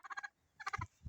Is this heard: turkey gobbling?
yes